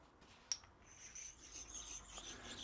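A precision-ground flat stone rubs across a metal part on a sensor body vacuum test fixture to knock off burrs, giving soft, faint rasping strokes after a sharp click, with no one talking.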